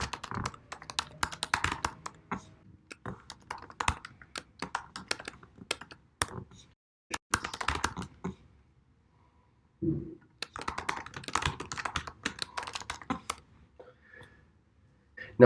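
Bursts of rapid clicking keystrokes on a computer keyboard come close and clear, separated by short silent pauses, with a faint brief murmur in one gap.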